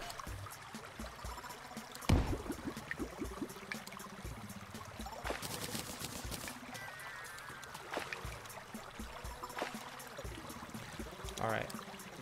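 Water pouring and trickling in the game Terraria during a hardcore expert playthrough, a steady running wash heard under game effects with a few sharp impact sounds.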